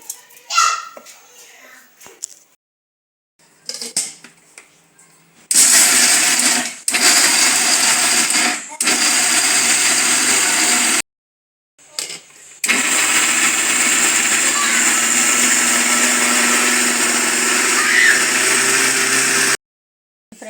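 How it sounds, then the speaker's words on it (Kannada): A mixer grinder whirs in several loud bursts of a few seconds each, grinding peanuts and jaggery, stopping and restarting, with brief quiet gaps between runs. "ಶೇಂಗಾ ಮತ್ತು ಬೆಲ್ಲನ ಮಿಕ್ಸಿಗೆ ಹಾಕಿದ್ದೀನಿ"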